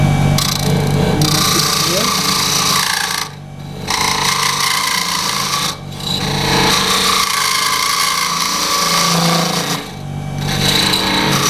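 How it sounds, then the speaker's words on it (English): A wood lathe spins a Crushgrind pepper mill blank at speed, its loud steady whir broken by two or three brief dips as the tool meets the wood, with a voice talking over it. "So let's go ahead and turn the lathe speed back up."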